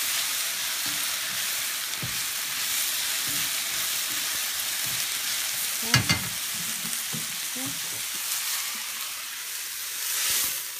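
Vegetables with jicama stir-frying for vegetable chow mein, a constant sizzle under intermittent scraping and stirring strokes, with a sharper clatter around the middle, close by and without speech.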